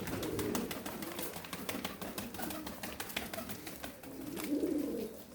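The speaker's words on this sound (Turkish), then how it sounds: "Kuşlar bunlar arkadaşlar." Pigeons cooing in low murmurs amid a busy, rustling background with scattered clicks and flutters, moderately close.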